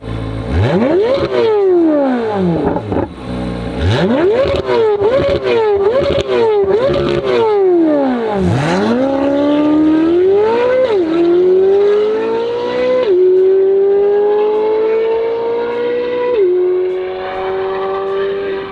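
A C8 Corvette fitted with an aftermarket exhaust and an NPP valve opened up snarls through a string of sharp throttle blips, then longer climbing revs with a few pops, loud and up close.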